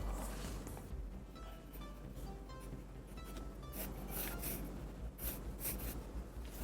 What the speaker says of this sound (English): I'm just going to draw a line like that, line across, and then down.